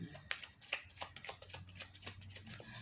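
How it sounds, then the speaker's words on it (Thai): Tarot cards being gathered up and shuffled by hand, producing a quick run of soft close riffling flicks at low volume, with a voice talking over them. "ขอดูว่า เดี๋ยวขอเก็บไพ่ก่อน"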